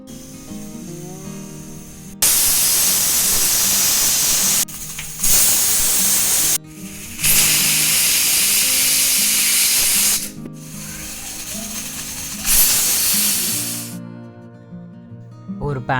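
Loud bursts of hissing steam come in long blasts with short gaps between as a pressure cooker whistles while cooking peas and potatoes, ending with quieter background sounds.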